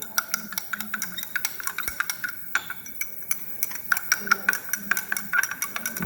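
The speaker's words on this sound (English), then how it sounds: "So I'll simply give it a little bit of a stirring" Nanoparticle solution being stirred in a lab vessel, with a rapid series of light clinks and taps of a utensil against glass, close and fairly crisp, repeating rhythmically throughout.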